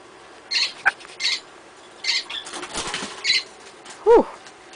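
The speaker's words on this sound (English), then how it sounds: "My birds are going hectic around here." Pet parrots, including an African Grey, flap their wings while playing indoors, giving several short, close fluttering bursts interspersed with chirps and squeaks.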